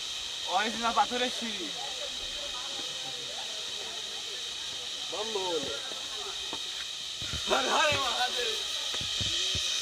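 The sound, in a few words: insects buzzing on Chandranath hill, Sitakunda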